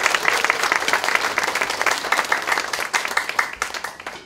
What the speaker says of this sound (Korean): 여러분의 큰 박수로 시작하겠습니다.